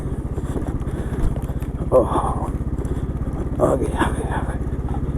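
A motorbike rolls over loose, shifting stones on a rough mountain track, its engine thrumming steadily while the tires crunch and clatter in short bursts, with a rider speaking over the noise.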